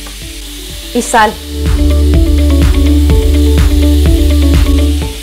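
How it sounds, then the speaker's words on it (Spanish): Minced meat sizzles and fries in a pan with browning onion, a steady loud crackle with stirring scrapes throughout, after brief speech at the start. "Cuando se empieza a dorar nuestra cebolla, vamos a añadir nuestra carne picada."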